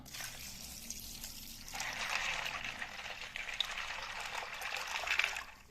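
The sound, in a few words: water poured over fava beans for soaking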